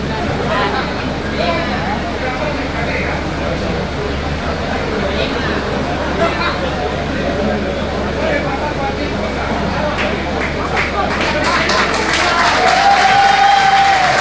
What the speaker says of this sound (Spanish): me aplauden, después hablamos